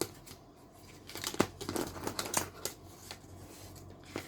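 Paper is folded and creased by hand for a no-sew keepsake journal, a run of soft crinkles, rustles and sharp crisp snaps at close range, quiet and uneven in rhythm.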